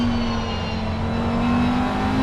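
Assetto Corsa Competizione race car engine held at full throttle around the Nürburgring, a loud, steady high-pitched drone that runs continuously and alone, without any gear changes.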